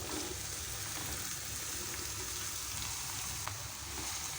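Chopped ridge gourd tipped into a pan of browned onions, giving a steady, fairly loud sizzle with soft stirring scrapes, no voices.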